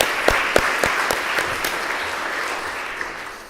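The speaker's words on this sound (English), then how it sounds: "I think another round of applause for Tressa for bearing with that" An audience gives a round of applause at an advisory council gathering on women and girls. A handful of sharp, close claps at the start give way to dense, steady clapping that fades slowly toward the end.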